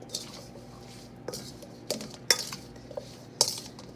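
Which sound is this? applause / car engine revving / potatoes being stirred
potatoes being stirred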